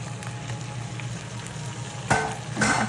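Meat drops into a pan of nearly melted frying onions for Bangladeshi shahi haleem, giving a faint steady sizzle that bursts louder about two seconds in as the pieces hit the hot oil.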